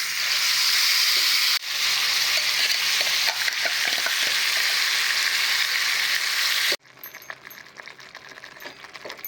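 Crushed onion fries with chilli, bay leaf and curry leaves in a pan, giving a loud continuous sizzle with stirring scrapes. It drops abruptly to a quieter crackle near the end.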